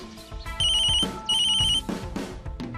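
A mobile phone rings with a bright electronic ringtone in two sustained bursts, clear and fairly close, set over background music in an indoor scene.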